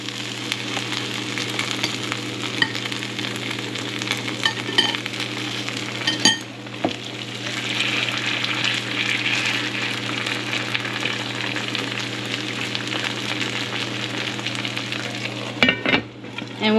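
Vietnamese savory crepe, banh xeo, sizzling in oil in a pan, making a steady, close frying crackle that runs throughout, with a couple of brief clinks of utensils against the pan.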